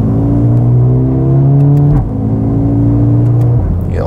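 Mercedes-AMG A35, a light compact performance hatchback, driving under acceleration with a loud close engine drone that rises through gears, a brief drop at a shift, then pulls again.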